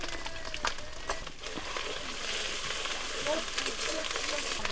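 Ginger, cumin paste and chilli paste frying in a pan over high heat, a steady close sizzle with scattered crackles and stirring scrapes, a few sharp pops standing out.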